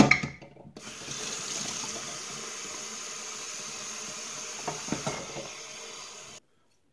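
Tap water pours steadily into a hydration bladder reservoir for about six seconds, a close, continuous hiss and splash that starts abruptly and cuts off cleanly.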